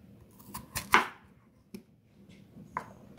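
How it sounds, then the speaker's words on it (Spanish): A knife chops peeled white potatoes into large pieces on a cutting board, with a few close, sharp, irregular knocks and one louder strike among them. "La patata blanca la picamos en trozos grandes"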